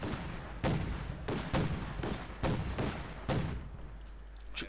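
Repeated sharp firing from a flak panzer shooting at conscripts in the Company of Heroes 2 strategy game, about six punchy bursts at roughly half-second to one-second intervals over a low battlefield hum, fairly distant and moderate in level.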